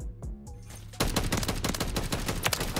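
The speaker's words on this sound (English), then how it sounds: "My god, I cannot shoot straight." Sidewinder gunfire in Call of Duty MW3 bursts in after a brief quiet lead-in, a loud, sustained stream of rapid shots that runs unbroken to the end.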